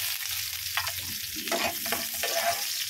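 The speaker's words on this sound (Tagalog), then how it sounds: "At syempre, start na po tayo mag-gisa." Garlic and onion sauté in a modest amount of hot cooking oil, with a steady close-up sizzle and several sharp bursts of stirring and scraping through the pan.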